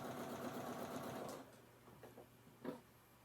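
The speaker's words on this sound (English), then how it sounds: "I just pick up two, sew them together." A sewing machine chain-pieces quilt block pieces, a steady close whirring run of stitching that eases off partway, followed by a few short bursts of stitches.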